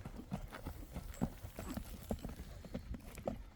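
Hooves of a horse clip-clop in a steady, fairly close rhythm, with light background noise and no talk.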